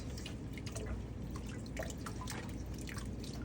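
Tap water runs and splashes into a sink while a denture is rinsed during a denture-care routine. The trickle is faint and close, with irregular drips over a low steady hiss.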